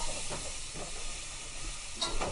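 Ground meat for spaghetti sauce browns in a pan with a soft, steady hiss and a few faint stirring scrapes throughout.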